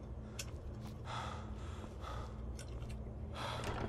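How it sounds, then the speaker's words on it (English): Breathy panting and gasping from a character in Skyrim repeats in short bursts over a low, hum-like game background, fairly close, with no speech. "I'm just making sure it's not him that's doing the panting."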